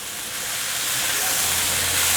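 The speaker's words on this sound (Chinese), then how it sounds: "继续翻炒。" Rice being stir-fried with red beet in a wok, a steady broadband hiss and light sizzle that builds slightly, with a faint low hum entering near the end and no talking.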